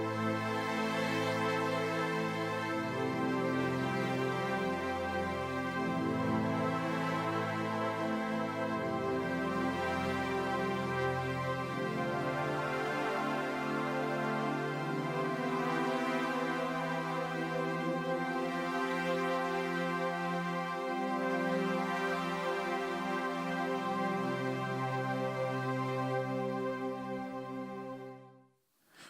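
Keyboard playing the intro of a worship song from a chord chart, sustained chords with a soft melodic line over a steady low bass, moderately quiet and continuous, ending with an abrupt cutoff.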